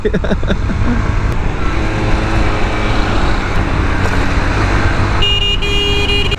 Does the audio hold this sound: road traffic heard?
yes